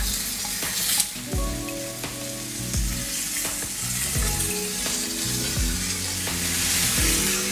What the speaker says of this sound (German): Wenn das Fleisch eine Farbe bekommen hat, kann man das Fleisch wenden.